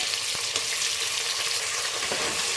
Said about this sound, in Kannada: ಈಗ ಆಯಿಲ್ ಬಿಸಿಯಾಗಿದೆ ಡೈರೆಕ್ಟಾಗಿ ನಾವು ಆನಿಯನ್ ಹಾಕ್ಕೊಳ್ಳೋಣ